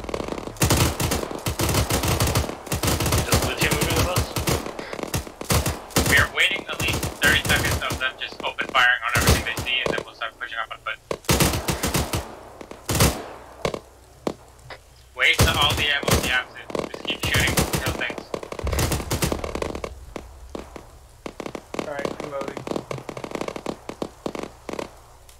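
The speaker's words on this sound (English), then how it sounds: "Open fire." Gunfire during an outdoor military-style operation: loud close bursts of rapid shots in uneven volleys, with pauses between, and people talking in between the firing.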